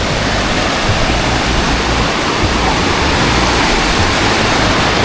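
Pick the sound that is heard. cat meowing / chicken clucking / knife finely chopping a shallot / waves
waves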